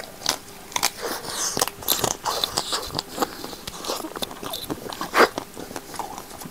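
Close, crisp crunches come as teeth bite and chew through the hard chocolate coating of a fruit-flavoured ice cream lollipop, a series of sharp cracks and brittle crackles in an uneven rhythm, heard up close.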